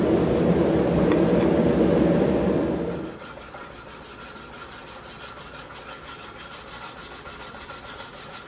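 Close, rhythmic rubbing of sandpaper on a forged steel hunting knife blade, a heavy scraping that drops after about three seconds to lighter, steady back-and-forth strokes.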